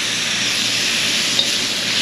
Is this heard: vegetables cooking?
yes